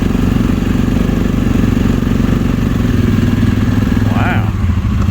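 A Can-Am off-road vehicle's engine is throttled in low range while reversing, a loud, close, continuous drone that holds steady throughout with a brief higher rise near the end.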